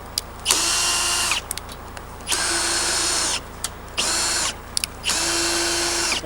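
Four bursts from a power drill driving into a wooden roof beam on a post and beam garage, each lasting about a second with short pauses between, close and loud.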